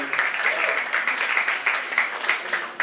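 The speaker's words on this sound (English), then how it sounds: "keep it clapping, please. Keep it going." A comedy club audience keeps up a brisk, continuous round of applause, many hands clapping close together, with a voice faintly underneath.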